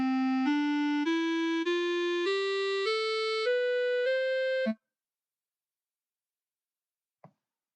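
An ascending scale of eight sustained notes with a reedy, synthetic clarinet-like piano tone, played steadily, followed by a short faint click.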